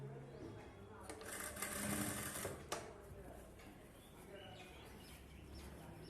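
A sewing machine stitches a blouse lining in a rapid mechanical chatter that swells for a couple of seconds and then stops, with a person talking quietly around it.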